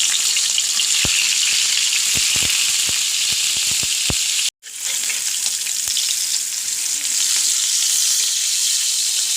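Dried fish dropped into hot oil in a pan, a loud dense crackling sizzle with scattered pops, a brief cut partway, then the frying continues strongly up close.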